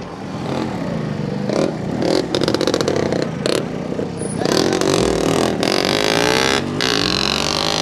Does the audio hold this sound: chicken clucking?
no